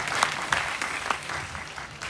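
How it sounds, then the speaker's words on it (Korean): Crowd applause at a Jeju town hall meeting between the provincial governor and residents: dense, continuous clapping from many people with a few sharper individual claps standing out, steady and moderately loud throughout. "박수 부탁드리겠습니다."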